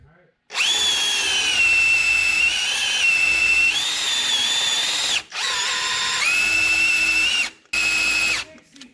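A power drill spins the oil pump of a stock 302 V8 to prime it before first start, a loud, close, high whining drone running steadily for several seconds, briefly stopping twice, with no voices.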